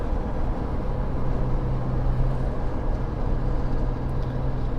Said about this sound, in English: Tire roar, it's okay.